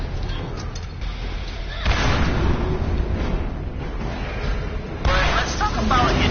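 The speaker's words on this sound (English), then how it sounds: "this freaking fire rocket launcher is destroying" Fire rocket launcher blasts in the Borderlands video game, heavy booming bursts at about two and five seconds with rumbling explosions, mixed under someone talking.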